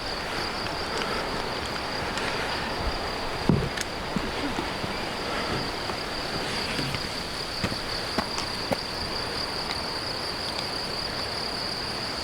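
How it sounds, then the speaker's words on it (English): Crickets chirp in a field along the Tour du Mont Blanc trail near Refuge de La Balme, a steady high-pitched trilling chorus with a few faint footsteps and rustles beneath it. "That's a lot of crickets."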